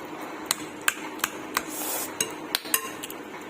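Raw mango chutney ingredients mixed in a bowl, with sharp utensil clinks striking the bowl at a steady, uneven rhythm about every half second, close and fairly loud, with no talk.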